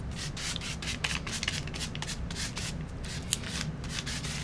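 Paint is scraped across paper while making glue-resist paint papers for origami boxes: repeated close, raspy strokes in a steady back-and-forth rhythm, fairly quiet and with no talking.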